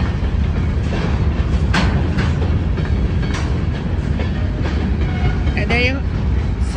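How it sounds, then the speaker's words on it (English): A CSX eastbound local freight train led by a pair of ES40 and ES44 diesel locomotives rumbles past steadily and loud throughout, with rail squeals and clatter, and a voice talking over it. "eastbound local freight train"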